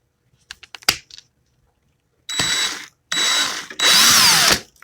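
A power drill with a 3/8 bit in the chuck, running in three separate loud bursts of about a second each, whining and rising in pitch, after a few faint clicks and taps, with no talk.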